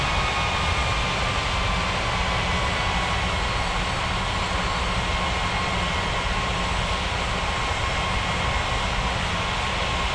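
An airplane engine at an airport drones loudly and continuously with a steady whine while taxiing, holding the same level for about ten seconds.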